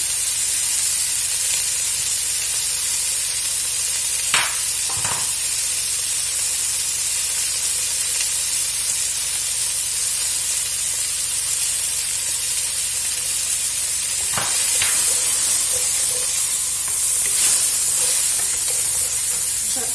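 Garlic fries in a hot pan with a continuous loud sizzle and hiss, broken by a few sharp clicks and scrapes of a utensil; no voices.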